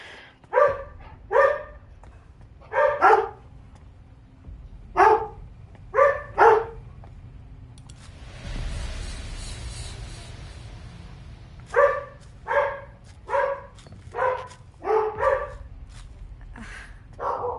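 Dogs barking in short clustered bursts of two or three, fairly close, with a noisy pause in the middle before the barking resumes; no talk.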